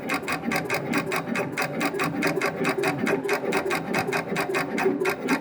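The engraving head of a 4-axis Ethernet SMCU CNC controller rattles in fast, even, rapid-fire pulses, a steady close mechanical chatter like a sewing machine running without pause.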